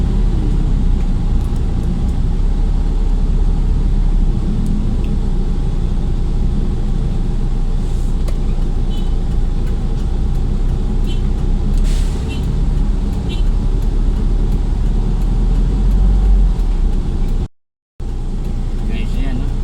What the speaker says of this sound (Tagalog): Always traffic.